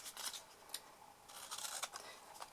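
Scissors cutting paper while making a craft melt box with Stampin' Up! products produce a string of faint, crisp snips and rustles at an irregular pace, close by and quiet.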